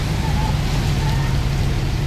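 Rain falls steadily in the Mafia video game, a constant broadband hiss under a low engine-like rumble, even and unbroken throughout.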